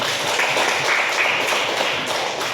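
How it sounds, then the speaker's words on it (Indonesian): A class of students in a Kupang classroom clapping their hands together, a dense, steady patter of many hands lasting a couple of seconds, fairly close and even in loudness. "tepuk tangan dulu"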